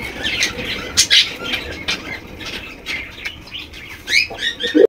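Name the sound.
golla pigeons in a cage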